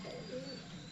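A fancier's pigeons coo softly in a brief, faint burst, with low rounded calls and a few thin chirps mixed in.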